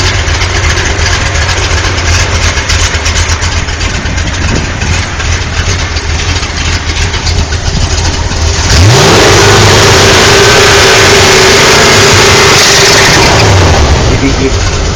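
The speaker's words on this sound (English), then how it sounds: "You can hear the belt crying." A 1970 Chevrolet CST engine idles with a rumble, then revs loudly partway through, with a thin high squeal from a worn half-inch V-belt riding over the roar.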